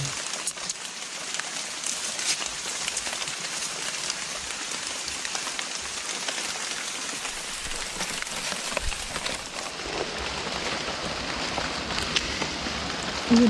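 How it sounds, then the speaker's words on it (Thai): Steady rain falling outdoors, a continuous dense patter and hiss on surfaces that holds at an even level throughout with no talk. "ฝนกระตกบ่เศร้าเลยพี่น้อง"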